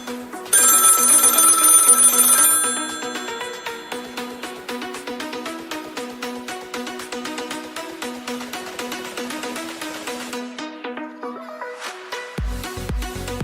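A telephone rings repeatedly with steady, evenly spaced electronic trills, fairly loud and alone, with a brief bright tone near the start.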